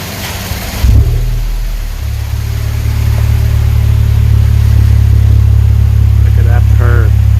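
A 2018 Honda Civic Type R fitted with an HKS exhaust starts up and settles into a deep, steady idle, loud and close, with brief voices near the end.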